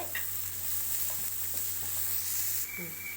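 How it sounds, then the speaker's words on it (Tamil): Sliced onion, ginger and garlic sautéing in a pan for a spicy paneer gravy, a soft steady sizzle with faint stirring scrapes under a low constant hum. "பெரிய வெங்காயம் இந்த மாதிரி கட் பண்ணி வச்சுருக்கேன் இதையும் போட்டு இதில் வதக்கிக்கலாம்"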